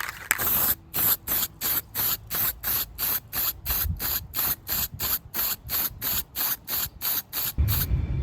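Spray paint from an aerosol can hitting a DIY spare wheel carrier, about twenty short regular bursts of hiss separated by brief pauses, close and clear with no talking.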